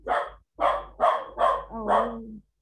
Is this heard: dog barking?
yes